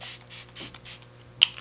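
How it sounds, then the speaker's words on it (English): Several short hissing bursts from a Smashbox primer water spray bottle being misted onto a face, close and evenly spaced, ending with a small click. "I'm going to spray my face to get it fresh with a Smashbox primer water"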